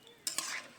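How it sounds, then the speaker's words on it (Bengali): Dal thinned with added water being stirred in a pan (kadai), a spoon scraping and swishing through it in two quick close strokes, then a soft continuing swirl. "দিয়ে নেড়ে চেড়ে নিচ্ছি"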